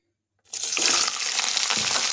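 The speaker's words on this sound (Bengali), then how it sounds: "তেলটা গরম হয়ে গেছে। এখন কেটে ধুয়ে রাখা ফুলকপিগুলো ছেড়ে দিচ্ছি।" Cut and washed cauliflower florets dropped into hot white oil for a winter vegetable dish, a sudden loud broadband sizzle that starts abruptly and holds steady and close, with no talking.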